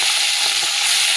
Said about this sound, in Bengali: চিংড়ি মাছটা দিয়ে দিচ্ছি।